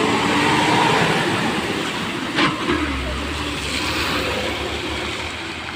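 A state transport bus rumbles along in rain with a steady low drone and road noise, a brief clunk midway, then a deeper engine hum.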